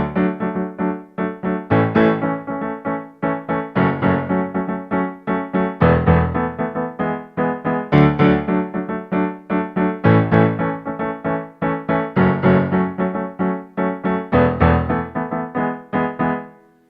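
A solo piano plays the verse of a song as steady repeated chords, with each strike decaying before the next, clear and close with no voices.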